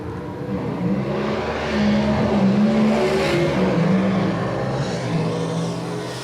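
Ford-powered gasser cars drag racing at Farmington Dragway in Mocksville, North Carolina, a sustained loud engine roar with rising and falling pitch as the cars run down the strip, steady throughout.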